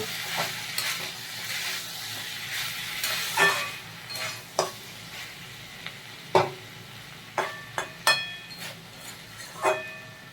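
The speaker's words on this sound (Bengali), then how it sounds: "এবার একবার ঢাকাটা খুলে দেখে নেব একটু নাড়িয়ে দেবো" A spoon stirs vegetarian banana stem curry with potatoes in a pan, with a soft sizzle throughout and scattered sharp metallic clinks and scrapes at irregular intervals, close up.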